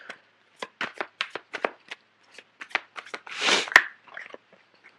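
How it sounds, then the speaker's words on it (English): Tarot cards shuffled and pulled from a deck, a close run of quick crisp riffles and flicks, then a longer rushing sweep and a few light slaps of cards set down. "I'm going to pull out a few cards for the Seven of Swords."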